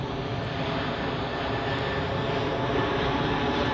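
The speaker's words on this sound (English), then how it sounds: "Swiss A330 pushed back from Dock E." Loud, steady roar of a Swiss Airbus A330's engines at Zurich Airport during pushback, a broad continuous rumble that holds level throughout with no talk.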